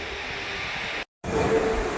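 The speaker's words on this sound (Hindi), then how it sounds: "फाइनली अपनी ट्रेन को एंट्री मिल गई प्लेटफॉर्म पे एंटर के लिए" Jhansi Etawah Intercity Express (11903) pulling into a platform at Etawah Junction, a loud steady rumble of rolling wheels and carriages, briefly cut by a gap of silence before the roar resumes.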